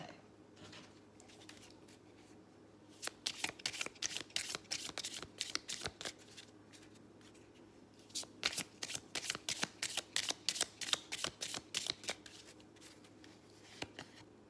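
Tarot cards are shuffled up close in two long runs of rapid, crisp riffling flutters, separated by a short pause, against a quiet room.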